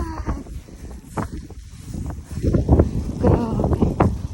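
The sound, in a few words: strong wind during snow storm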